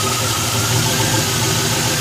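A warmed-up car engine idles loud and close, a steady, even rumble with constant mechanical vibration and no pauses or revving throughout.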